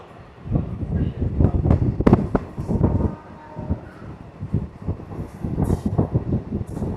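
A Krishnanagar to Amghata train rounds a curve on the line, its wheels rumbling and clattering on the rails at fairly close range for the whole stretch, with wind buffeting the microphone.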